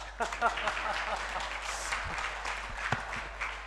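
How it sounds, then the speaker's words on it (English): Scattered applause from an audience of civil service exam aspirants, a moderate wash of clapping over a low steady hum, with some murmured voices beneath. "young men are also clapping."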